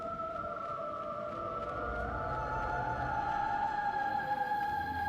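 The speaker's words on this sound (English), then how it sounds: "I hear the siren." A steady electronic siren wails in a PS1 God of War game, two sustained tones holding and slowly rising in pitch over a low rumbling background, loud and continuous throughout.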